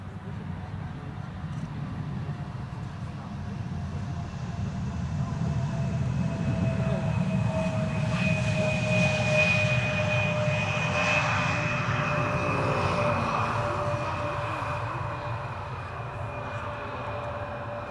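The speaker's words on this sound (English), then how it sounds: "Embraer 170." An Embraer 170 airliner lands at Schiphol Airport, its jet engine roar building steadily over about eighteen seconds with a sustained whine, loud and fairly near, no talk.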